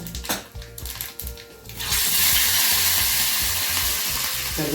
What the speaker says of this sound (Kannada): ಸಾಸಿವೆ, ಸ್ವಲ್ಪ ಜೀರಿಗೆ, ಒಗ್ಗರಣೆ ಸ್ವಲ್ಪ ಜೀರಿಗೆ ಹಾಕ್ತೀನಿ.